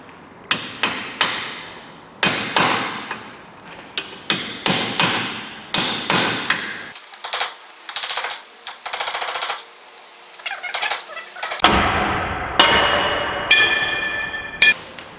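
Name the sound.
hammering a chisel to free a Peugeot 407 ball joint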